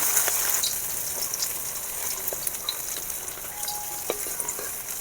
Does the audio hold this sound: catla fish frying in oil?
yes